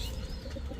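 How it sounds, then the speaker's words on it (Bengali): A high-flying Giribaj pigeon gives a brief, faint coo over a soft, muffled background rumble. "এই হচ্ছে খাতারনাক কবুতর"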